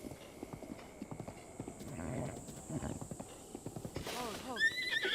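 A horse in The Legend of Zelda: Breath of the Wild trots with steady, rhythmic clip-clop hoofbeats, then lets out a clear neigh near the end, while a person talks over it.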